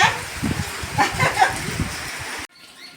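First monsoon rain in the Konkan region falls as a steady, close hiss of drops pattering on surfaces, continuous and fairly loud before cutting off abruptly near the end.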